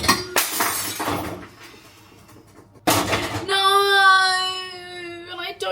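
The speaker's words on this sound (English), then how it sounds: "I just smashed my glass." A drinking glass smashes in a kitchen with a sharp crash and scattering shards, a second bright burst of breakage follows a few seconds later, and a voice speaks briefly around the breaking.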